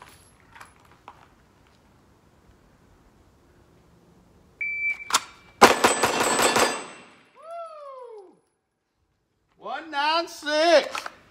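Glock 45 MOS pistol with a Deltapoint Pro sight firing at a larger target on a range, a rapid string of sharp close shots followed by beeping timer tones.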